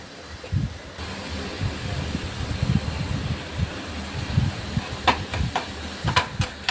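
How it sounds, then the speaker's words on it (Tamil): Onion and green chili paste sautéing in a pan for Pallipalayam chicken, a soft steady hiss with scattered crackles and a few sharp clinks near the end. "இதோடு நம்ம அரைச்சி வச்ச வெங்காயம் பச்சை மிளகா பேஸ்ட்டு சேர்த்துக்குவோம். நல்லா வதங்கட்டும்."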